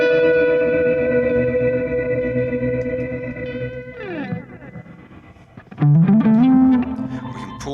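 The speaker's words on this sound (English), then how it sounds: "we've got a bit of delay going into a shimmer reverb, going into a tremolo, going into a compressor" An electric guitar runs through a BOSS GT-1000 with delay, shimmer reverb, tremolo and compressor. Sustained chords shimmer and echo, then a bending note swoops and trails off into a wash of reverb.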